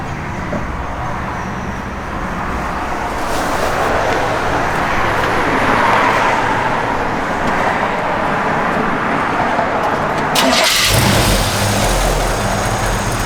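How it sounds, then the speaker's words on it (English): A 1953 Ford F100 truck engine cranks and fires up near the end, settling into a steady running rumble over continuous engine and road-like noise. "And the truck fires right up."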